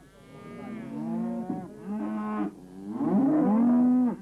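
Cattle moo in a series of three loud, close, drawn-out bellows, each rising and falling in pitch with short breaks between.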